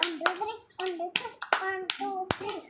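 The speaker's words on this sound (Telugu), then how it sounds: "క్లాప్స్ కొట్టండి షానుకి." Children clapping their hands in a classroom in short bursts of a few claps each, with young voices mixed between the bursts.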